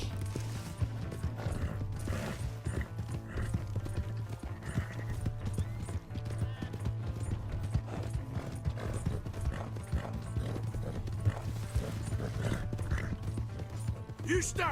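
Horse hooves clip-clop steadily through an open-world western game scene in Red Dead Redemption 2, rhythmic and mid-distance under ongoing game sounds, with faint whinnies and mechanical clatter around it.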